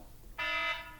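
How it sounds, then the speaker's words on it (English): A phone timer alarm set as a medicine reminder goes off loudly and close by, a steady electronic beeping tone that starts after a brief quiet and restarts at the end. "phone's timer for me to take my medicine"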